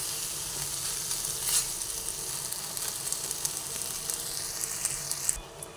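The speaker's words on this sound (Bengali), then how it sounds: "এরপরে অল্প একটু ভেজে নেব।" Teasel gourd frying in a pan with a cashew and peanut paste gives a soft, continuous sizzle with light stirring scrapes. It is quiet and steady, and no one speaks.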